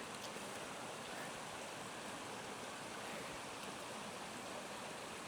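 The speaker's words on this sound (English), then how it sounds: "it's a steady flow of water" Spring water flows steadily from a freshly dug spring on a farm in Norway, a continuous broadband rush and trickle held at an even level, close by, with no voices.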